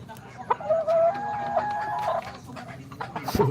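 Pet chickens at home give a drawn-out, crowing-like call followed by a few short clucks. They sound fairly close, over a low background rumble, and a sharp knock comes near the end.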